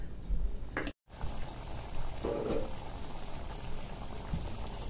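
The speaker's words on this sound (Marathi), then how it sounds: "आता याला एक दणदणीत उकळी काढून घ्यायची" A pot of Punjabi dhaba-style chhole curry boils vigorously, giving a continuous close bubbling and simmering sound with a brief dropout near the start and no talking.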